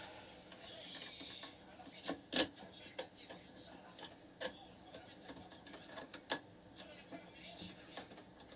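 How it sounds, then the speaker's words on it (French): Screws on a Jabsco marine toilet being tightened by hand, giving irregular close clicks and ratcheting ticks over a low background, with a few sharper metallic snaps. "Et on va resserrer"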